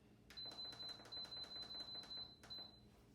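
An Instant Pot set to pressure cook for 20 minutes beeps repeatedly: a fast, even series of about a dozen short, high electronic tones over roughly two and a half seconds, faint against a quiet kitchen background.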